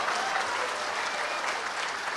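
Audience applause at a live Indian stage event with performers, a dense steady clapping from a crowd that fills the whole moment without pause.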